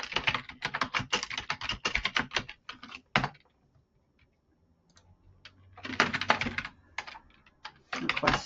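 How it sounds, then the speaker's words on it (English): Computer keyboard typing in quick bursts of keystrokes, close and clear, broken by a quiet pause of a few seconds before the clatter resumes. "I'm just going to go ahead and type in the other ones for you"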